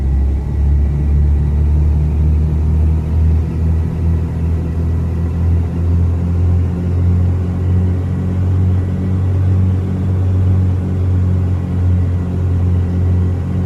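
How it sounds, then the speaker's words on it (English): A single-engine piston aircraft is run up to about 1800 RPM with the mixture full rich, giving a loud, steady, deep engine rumble and prop drone that holds even throughout, with no talk. "So we're gonna go full rich, run this up to about 1800 RPM."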